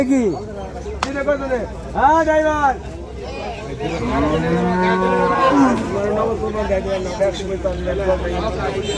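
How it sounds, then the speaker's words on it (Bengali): Cattle moo repeatedly at a busy village cattle market held before Eid, several loud, drawn-out calls rising over a constant murmur of crowd chatter and voices. "হাটের মধ্যে এই গরু দুটি আমার খুব ভালো লাগছে"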